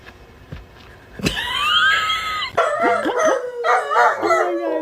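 A dog gives a sharp bark, then a long rising howl, followed by wavering, yodeling howls and whines close by, loud and expressive.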